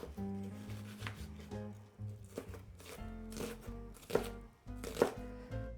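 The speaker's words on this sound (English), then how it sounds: "You're just going to slice up 1/2 of a large onion." A knife slices through half of a large onion for artichoke soup, a series of close, uneven cuts and soft thuds on a board, with no one talking.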